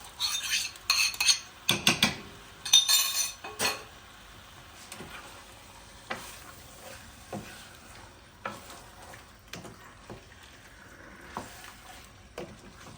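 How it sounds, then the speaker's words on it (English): Lamb curry stirred in a pan, with a utensil scraping and clinking against the metal in irregular bursts, loudest early on, over a quiet sizzle. "I'm constantly stirring it to make sure it's not burning at the bottom."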